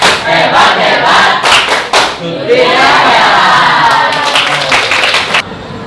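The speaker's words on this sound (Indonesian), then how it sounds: "kalau betul kita kasih tepuk hebat. Tepuk hebat." A classroom of pupils performs the "tepuk hebat" chant, loud voices shouting in unison between bursts of rhythmic group clapping, with repeated claps in quick runs at the start and again near the end.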